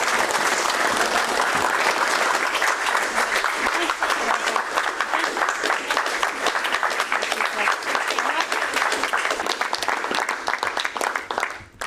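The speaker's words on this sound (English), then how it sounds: "Give him a clap." Sustained audience applause at a martial arts white belt grading, a full, continuous crowd clapping for about twelve seconds that thins slightly toward the end, with voices mixed in.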